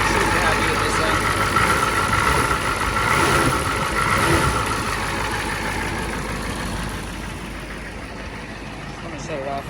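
An old Ford 6.9 IDI diesel engine idles steadily and close by, a continuous low rumble with a broad clattering texture that holds even throughout and eases slightly toward the end.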